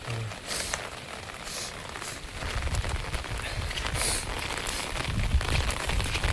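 Steady rain falling on a Konkan farm, a continuous loud hiss and patter that keeps going throughout with no voices.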